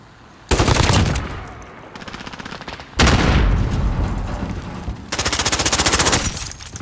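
Rapid automatic gunfire from a Call of Duty: Modern Warfare multiplayer match, loud close bursts in three long volleys separated by brief quieter gaps with sustained rattling.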